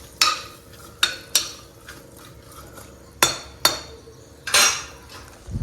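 A spoon scrapes and knocks against a metal pressure cooker while tomatoes are mixed into vegetables, giving sharp, irregular clinks spaced about a second apart over a quiet background.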